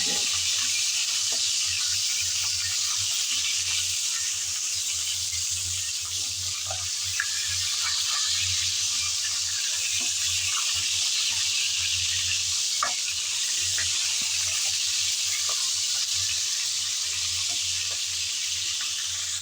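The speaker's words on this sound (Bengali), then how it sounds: "কিছুক্ষণ সময় নিয়ে উল্টিয়ে পাল্টিয়ে এই মাথা ভেজে নেব" Fish head frying in lightly heated oil in a pan, a continuous dense sizzle with a low steady hum underneath and occasional faint clicks, close and even throughout, with no voices.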